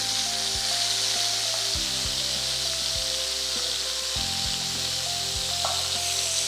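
Steady, close sizzling of marinated Kashmiri chilli chicken pieces frying in a pan of oil, a continuous bright crackle with occasional low clunks of the pan underneath.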